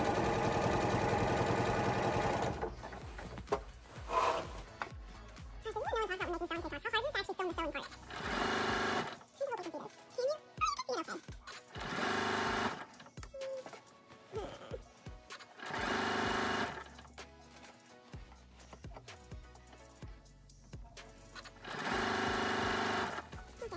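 Sewing machine basting fabric for a cosplay gown, running in several loud bursts of rapid stitching separated by pauses, with a voice talking in the quieter gaps.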